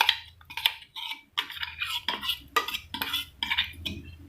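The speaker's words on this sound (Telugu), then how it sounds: "దాన్ని కూడా వేసుకొని నీట్గా మిక్స్ చేసుకోవాలి ఫ్రెండ్స్" A utensil stirs melted soap base mixed with tomato puree in a container, producing irregular scraping and clinking strokes close up, with short pauses between movements.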